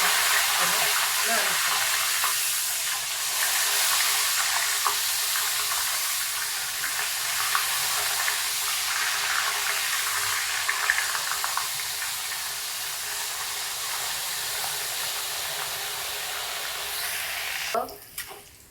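Dried coconut fries in hot oil for poha chivda, giving a steady close sizzle and hiss throughout with occasional stirring clinks and a scrape near the end.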